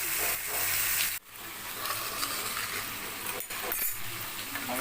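Chicken sizzles in hot oil with whole spices and Kashmiri chili powder, a steady loud frying hiss broken by a couple of brief clinks and pauses as the pan is handled.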